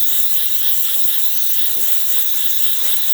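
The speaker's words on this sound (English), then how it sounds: "As you can see, there's steady steam coming out of the machine." A DeLonghi espresso machine with a newly serviced mecanovalve releases a steady, loud hiss of steam, constant and unbroken throughout with no talking.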